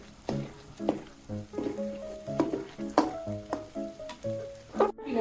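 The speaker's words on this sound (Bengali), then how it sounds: "পেঁয়াজ ভাজা হয়ে গেছে" Small chopped onions fry in oil, made crisp for Bengali onion fritters and chickpea curry. A close sizzle continues with repeated stirring scrapes and ringing pan knocks, and no voices.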